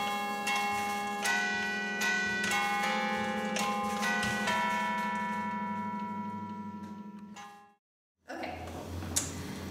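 A church chime of 11 bells at St. Paul's Cathedral in London, Ontario rings out in several close, overlapping strikes whose tones linger and slowly decay before cutting off abruptly, followed by faint room noise.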